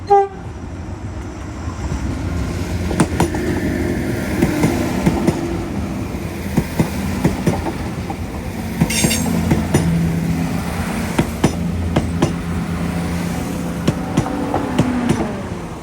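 The Enterprise passenger train to Dublin rolls past in Northern Ireland with a loud, sustained rumble, rhythmic clicks of wheels over rail joints, and a brief horn sounding partway through.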